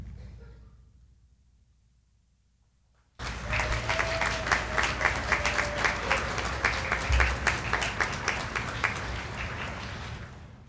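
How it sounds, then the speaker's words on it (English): Community college graduates at a spring commencement ceremony stand and applaud their families and friends. A few seconds of quiet hall tone give way to a sudden burst of sustained, full crowd clapping that continues to the end. "Graduates, I offer you this opportunity to rise and applaud the family members and friends"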